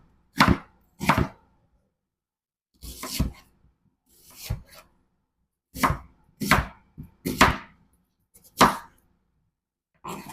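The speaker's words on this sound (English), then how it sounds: "I'm going to do a large chop to this onion." A knife chops an onion into large pieces on a board, about ten crisp separate thuds in uneven pairs and singles, close and clear with silence in between and no talk.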